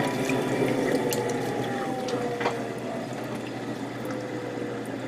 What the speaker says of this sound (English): this water flow is not going the way it's supposed to be